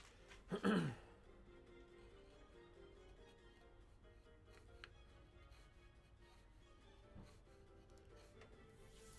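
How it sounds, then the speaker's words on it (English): A woman coughs in the distance, one short, muffled burst near the start and a fainter one later, over a quiet, steady background hum. "I can hear my wife coughing from here."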